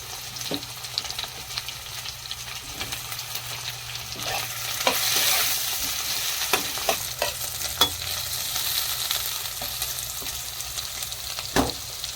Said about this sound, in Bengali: বেগুনটা সামান্য ভাজা ভাজা হবে,